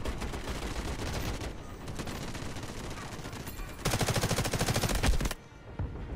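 Sustained turret gunfire in the mobile shooter Delta Force Mobile, rapid automatic bursts loud and continuous, intensifying into a dense rattling volley before cutting off abruptly.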